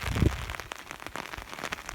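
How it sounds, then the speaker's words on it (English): Rain falls steadily and fairly hard outdoors on a wet day with puddles and gusting wind, a dense, even patter with a brief louder rumble near the start and no voices. "it's starting to rain harder and the wind's starting to blow more"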